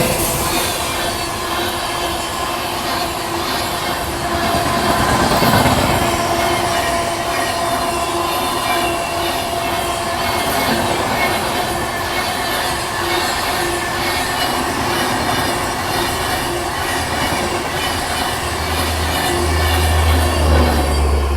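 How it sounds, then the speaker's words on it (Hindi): The Gondwana Express rolls past on the adjacent track at a crossing, a loud continuous rumble of wheels and wagons with squealing and clatter throughout, very close. "ये आ गई अभी गोंडवाना एक्सप्रेस, क्रॉसिंग हो रही है बगल से"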